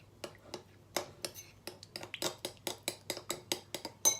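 Cinnamon roll ingredients mixed in a bowl: a rhythmic series of about a dozen close, crisp scraping clinks of a utensil against the bowl, steady and fairly quiet with no talking.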